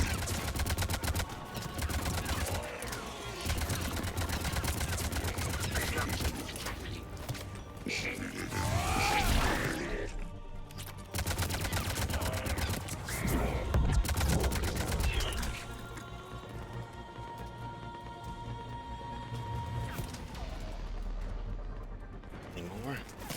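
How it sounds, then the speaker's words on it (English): Sustained gunfire in the Xbox video game Mass Effect 3: dense bursts of automatic shots and explosions roll on almost without pause, loud and close, mixed with game voices and combat effects. "Someone's shooting at me."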